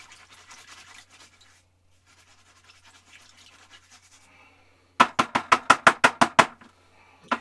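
A 2-inch brush slapping and scrubbing across an oil painting canvas in a fast burst of about a dozen rhythmic, loud, close strokes, following quieter soft brushing and faint rustling.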